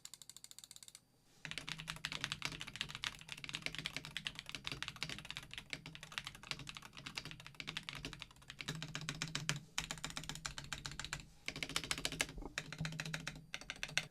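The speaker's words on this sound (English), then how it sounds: "a sound test of how the keyboard sounds in just the aluminum case with unlooped switches" Wooting 60HE keyboard in an aluminum case with unlooped switches, typed on steadily: dense, fast clacking keystrokes heard close up after a brief pause at the start, with no voices.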